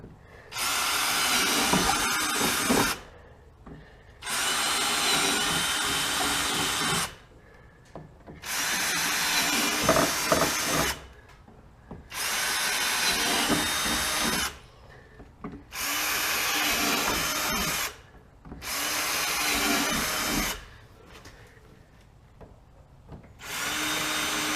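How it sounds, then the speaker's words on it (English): A cordless drill with a 1/4-inch bit bores slots in a fender flare on a 2018 RZR S4 900, in six loud, even bursts of high whirring, each a few seconds long with short quiet gaps between them. "We're going to start drilling out the 1/4-inch slots here, and with our cordless drill and the 1/4-inch bit."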